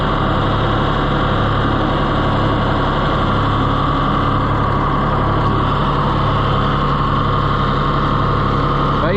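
A John Deere 1020 tractor engine idles steadily after a long warm-up run, a loud, even low rumble with a faint rhythmic pulse and no speech.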